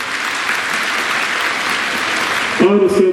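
An audience at a convention centre ceremony breaks into sustained applause to welcome vice chancellors, a thick steady clapping wash that carries on until a brief burst of speech or announcement cuts in near the end.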